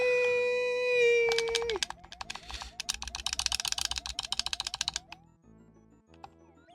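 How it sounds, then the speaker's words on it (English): During a Mario Maker game, a controller's A button is mashed in rapid, sharp plastic clicks that rattle on for a few seconds after a brief sustained game tone, then thin out to a few scattered taps. "All you can hear is the violent clicking of the A button."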